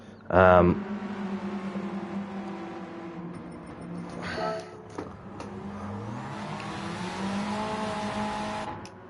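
Renault Clio Cup race cars in Gran Turismo 7 roar past during a 12-lap race, with one sharp loud burst early, revving surges and rising engine whines, while someone talks over much of it.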